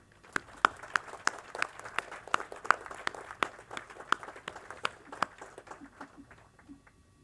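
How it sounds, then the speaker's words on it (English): Applause from the audience at a 2018 Veterans Day ceremony, scattered distinct claps ringing out over a soft crowd wash and thinning toward the end, moderately distant. "Ladies and gentlemen, a hearty round of applause and a thank you to all."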